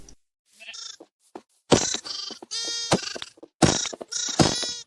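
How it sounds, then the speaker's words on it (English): Sheep in the Minecraft video game bleat several times in a row, each call loud and close, with short pauses between them and no talking. "I saw some sheep right in front of me, so I needed wool."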